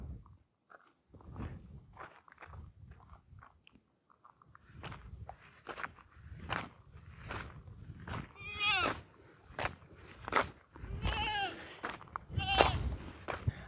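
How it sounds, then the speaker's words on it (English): Goats bleat several times over a shuffling outdoor background, the calls clustering toward the end and fairly close. "Let's go now down the road with some goats as well"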